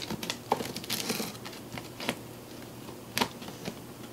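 A knife cuts open a projector's cardboard box, giving faint, close scraping and crinkling with a few sharper snaps and tears, without talking.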